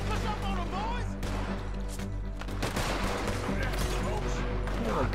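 Gunfire in the Red Dead Redemption 2 video game: a dense burst of overlapping shots that keeps sharp attacks over a constant low game rumble, loud and close, with a voice talking over part of it.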